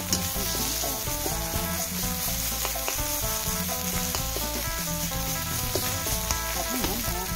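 Catfish curry stir-fries in a pan with water and fish sauce, giving a constant crackling sizzle with frequent scraping and clinking of stirring, close and moderately loud.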